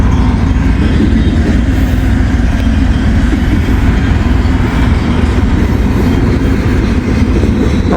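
A BNSF train rolls past close by on the rails, a loud continuous rumble with wheel noise that holds steady throughout, no voices.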